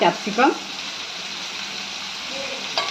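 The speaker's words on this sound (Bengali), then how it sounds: "পেঁয়াজটা হালকা ভেজেছি।" Sliced onions with a pinch of salt sizzle gently in a pan, cooked for dhaba-style chicken; a steady soft frying hiss runs throughout, with a brief voice and a light stir near the start.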